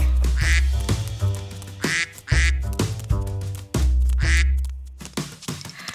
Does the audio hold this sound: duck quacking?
yes